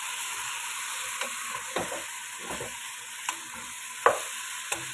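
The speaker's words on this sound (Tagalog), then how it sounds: "Haluin na natin." Chicken biryani is stirred in a frying pan, several separate scraping stirs and clanks landing over a constant close sizzle of hot oil, with no talking.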